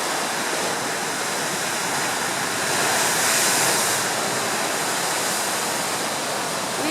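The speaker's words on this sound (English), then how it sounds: "We asked Jesus for big waves" Big ocean waves crashing near a blowhole, a loud, steady, rushing roar of surf that swells briefly midway before settling back to a constant wash.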